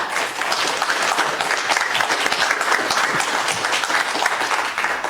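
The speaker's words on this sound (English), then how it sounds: "I offer a round of applause to all 4 of our participants tonight." A tax freeze forum audience gives its participants a round of applause, thick continuous clapping filling the room, loud and even from start to finish.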